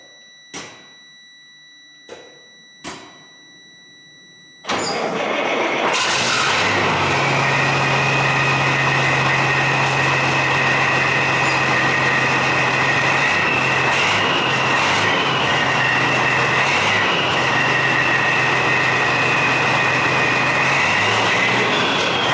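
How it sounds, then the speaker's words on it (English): A Freightliner truck fitted with a Pittsburgh Power muffler: a few sharp clicks, then the engine fires up and settles into a loud, steady, close diesel rumble with a constant low drone that runs to the end. "Well, the truck itself sounds pretty good."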